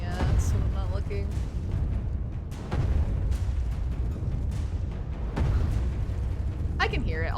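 Deep artillery-like cannon booms from a video game fire repeatedly amid busy game noise, with a voice talking over them.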